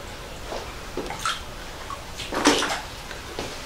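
Water trickling and dripping from a small hole in an old original stone wall, a quiet, uneven wet patter with a few brighter splashes, close and faint against a low background hum.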